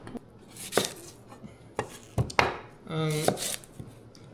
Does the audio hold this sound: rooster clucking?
no